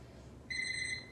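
An alarm clock goes off partway through, a steady, piercing electronic tone that begins abruptly and continues at constant loudness over a faint low hum.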